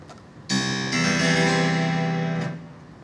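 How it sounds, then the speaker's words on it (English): An electronic harpsichord plays a sustained, bright chord with dense plucked-string overtones, entering sharply after a brief pause, swelling slightly and holding steady before cutting off, alone and close. "I play the harpsichord, and it sounds like this."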